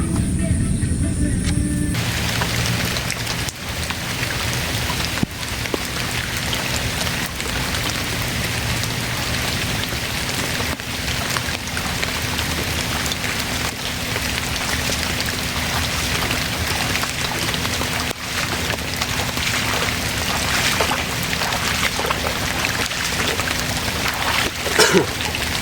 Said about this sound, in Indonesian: karena ini hujan